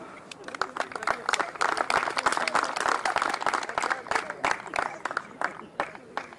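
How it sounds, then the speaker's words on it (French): Audience applause for young karting drivers at a motorsport event, dense and steady for several seconds with a crowd murmur and a voice speaking over the clapping. "on peut les applaudir"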